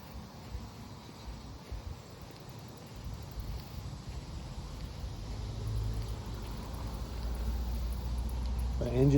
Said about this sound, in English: I think the engine sounds the same.